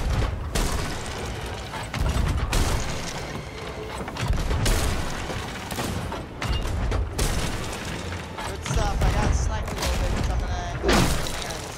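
Cannon fire from a ghost ship in the pirate video game Sea of Thieves: repeated heavy booms and crashing impacts with creaking, mechanical clatter, loud and close, recurring every couple of seconds.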